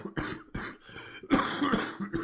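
Several harsh, raspy coughs come in quick succession, close and loud, with short gaps between fits.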